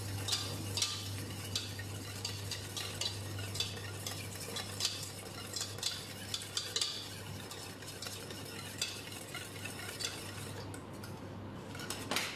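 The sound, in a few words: whisking eggs continuously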